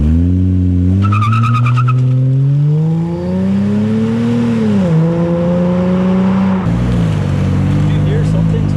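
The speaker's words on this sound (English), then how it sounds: "I will try to launch this car and see what happened." An all-wheel-drive car bought cheap at auction after vandalism, in manual shift mode, launches hard: a loud, close engine rev climbs and dips while tires squeal sharply throughout, with a brief high rattle early on.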